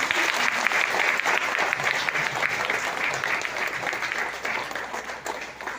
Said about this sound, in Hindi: तो मैं चाहूंगा हेमंत सरकार की जोरदार तालियां